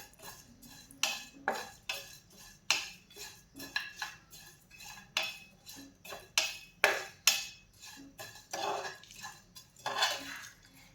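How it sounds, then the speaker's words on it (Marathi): Coriander, cumin, whole spices and sesame dry roasting in a pan, heard as a steady run of metal spoon scrapes and clinks against the pan, fairly close, with no talk over it. "धने जिरे खडे मसाले आणि तीळ आता हे आपण सर्व छान भाजून घेऊयात"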